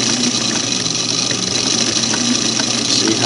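A Singer Model 513 sewing machine runs its internal mechanism in a steady, continuous mechanical whir. It is close and fairly loud, with no pauses and no voices.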